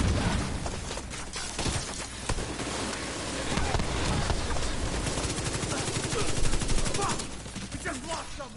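Gunfire in the video game The Division 2, dense rapid bursts of shots and crackling fire overlapping in a busy, loud mix with some muffled voices underneath.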